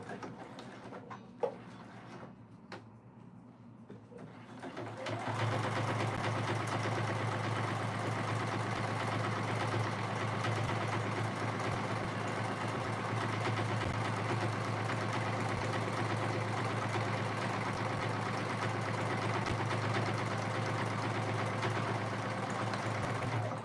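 A sewing machine stitches a fanny pack, starting after a few seconds of quiet handling clicks and then running in one long, steady, close drone that continues to the end.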